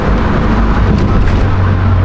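A Subaru STI braking hard on the road, with a loud, steady low rumble of road and engine noise filling the whole moment and no voices.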